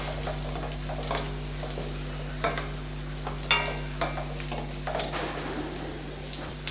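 Curry leaves sautéed in a pan for bitter gourd curry, a steady low sizzle and frying hiss with several sharp scraping stirs and clinks of a utensil against the pan.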